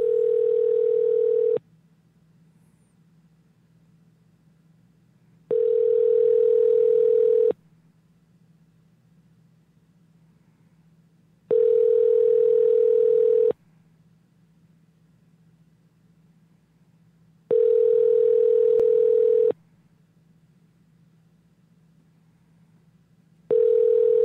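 Repeating call tone over a Skype call, steady two-second bursts separated by roughly four-second gaps, loud and clear with a faint low hum between rings and no talking.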